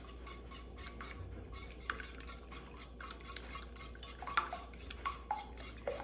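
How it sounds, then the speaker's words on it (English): Two eggs whisked in a bowl for a low-carb keto pecan pie bar custard topping, a steady run of quick, light tapping strokes against the bowl, close and continuous with no talking. "start whisking"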